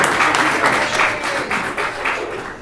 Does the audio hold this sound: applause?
yes